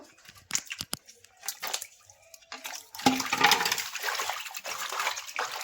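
Water from a tap splashes and runs over a rohu fish head being washed in a basket, starting as short bursts and then flowing steadily and fairly loud near the microphone.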